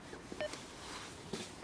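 A couple of short, faint electronic beeps like keypad presses, spaced apart over quiet background noise.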